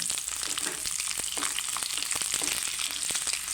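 Garlic sizzles in hot oil with popped mustard seeds, a dense steady crackle with scattered sharp spits and pops, close and continuous.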